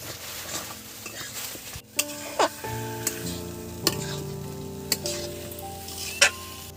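Fried prawns and potatoes hissing in a wok (kadai) with young jackfruit, a continuous close sizzle punctuated by sharp scrapes and knocks of a stirring spoon against the pan.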